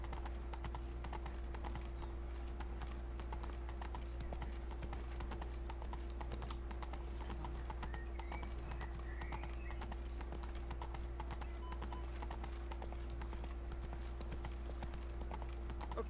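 The horse Roach in The Witcher 3 trots with steady, rhythmic clip-clop hoofbeats under a constant low game hum, fairly quiet and continuous throughout.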